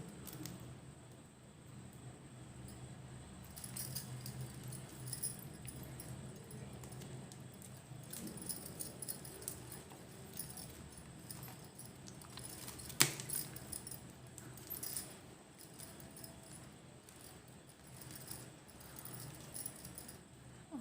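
Plastic-coated wire strands being handled and joined while making a wire basket, giving soft, faint clicks, rattles and light jangling scattered throughout, with one sharper tap near the middle and no talking.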